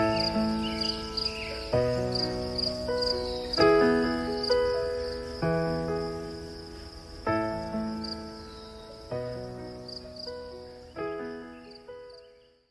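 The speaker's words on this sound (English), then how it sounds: "You can hear that sound, crickets in the background." Crickets chirp steadily in the background on a quiet evening, heard from a parked Chevy with the window down, a rhythmic high trill repeating over a low engine-like hum, with no talking.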